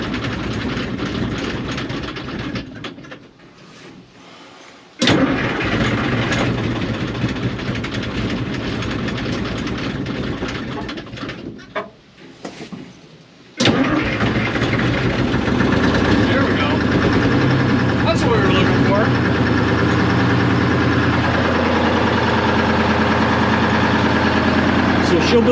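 A 1975 International Loadstar 1850 truck engine cranks, stumbles and catches twice before settling into a steady, loud idle, with a person talking briefly nearby.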